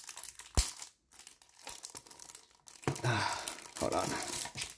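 Plastic packaging around a Disney Castle Collection Mulan Imperial Palace pin is torn and crinkled up close, in uneven bursts with brief pauses and soft breathing between them.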